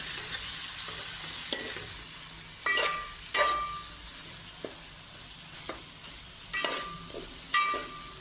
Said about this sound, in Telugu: గరం మసాలా పౌడర్, జీలకర్ర పౌడర్ వేసి చక్కగా ఈ మగ్గేంత వరకు ఫ్రై చేసుకోవాలి.